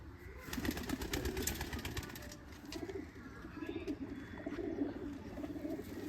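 Pigeons on a rooftop loft in a village coo repeatedly in low, rolling calls over faint background noise, with brief flutters now and then.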